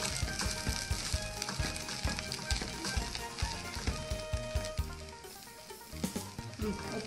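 A chicken cutlet mixture cooks over a low flame in a pan, a soft busy sizzle broken by repeated scraping and stirring knocks from a utensil, fairly quiet with no talking.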